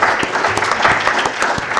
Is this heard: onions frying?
no